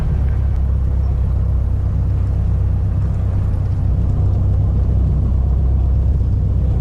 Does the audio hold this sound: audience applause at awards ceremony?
no